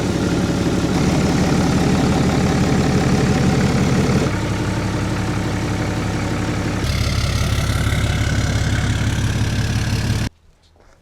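A Ram 2500 Cummins diesel idles loudly up close with a steady rumbling knock, its tone shifting a couple of times before cutting off abruptly near the end.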